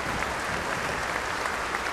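A concert audience claps after a performance of Handel's Alexander's Feast, a dense, even wash of applause that holds steady throughout.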